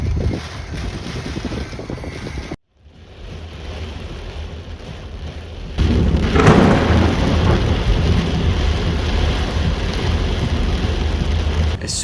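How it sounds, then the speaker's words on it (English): Steady rain falls with rolling thunder during a lightning storm. After a sudden brief dropout, a louder crack of thunder sets off a heavier downpour that keeps going to the end. "It started to rain and lightning struck across the sky."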